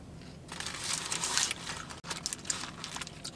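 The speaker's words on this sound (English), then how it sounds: "for sweet potato fries, they're crispy, they're seasoned just right." Crispy seasoned sweet potato fries crunch and crinkle softly in bursts of chewing, faint and close, with no talk over them.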